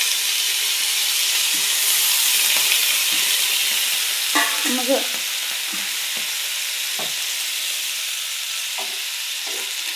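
Food sizzles and steams in a pan with a constant close hiss, punctuated by several scraping stirs and spoon clinks, while a voice briefly speaks once.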